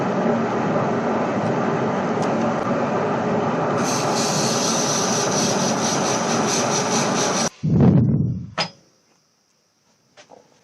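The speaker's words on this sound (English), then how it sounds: "Sand and finish that off." A turned wooden keyring sanded on a lathe: a loud, steady broadband rushing hiss of abrasive on spinning wood that runs continuously, then cuts off abruptly into a short rumble as the machine winds down, followed by a couple of faint clicks.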